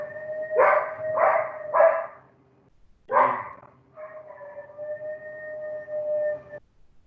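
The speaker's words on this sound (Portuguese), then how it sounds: "Meus cachorros, às vezes, eles dão umas doideiras." Dogs at home bark in a burst of three quick barks, then another after a pause, followed by a drawn-out whining howl, loud and close with no talking.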